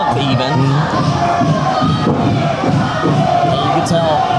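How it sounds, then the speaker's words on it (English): A wrestling crowd at an XIW event cheers and shouts continuously, a dense roar of many voices with bursts of louder yelling throughout. "the crowd here at XIW willing him back"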